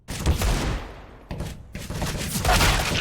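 Rapid bursts of gunfire from a Counter-Strike esports match between Eternal Fire and Entropiq, dense overlapping shots filling the clip with a short lull in the middle, loud and close, no talk over it.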